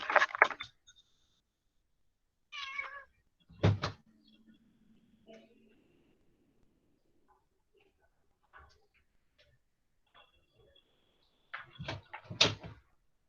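A house door closed to keep a pet cat out, with a few soft knocks and thuds spaced across a quiet room, a brief creak in between, and no talking.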